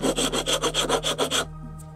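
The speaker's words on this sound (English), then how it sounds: "really start refining the shape of this with the rasp" Wood rasp shaping a wooden spoon clamped on a shave horse: about ten steady, even rasping strokes in a regular rhythm, close and fairly loud, stopping abruptly near the end.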